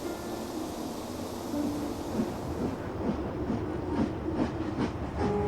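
A railway engine hauls passenger coaches toward the sidings, a steady rumbling roll with soft rhythmic clicks of wheels over rail joints picking up toward the end, moderately loud and with no voices.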